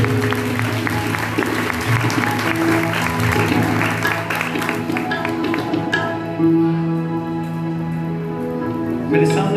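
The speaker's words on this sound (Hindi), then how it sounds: "जोरदार तालियां" A congregation at a healing prayer gathering gives loud applause, a dense, continuous clatter of clapping over a held musical tone and background hum, which persists as the clapping thins slightly toward the end.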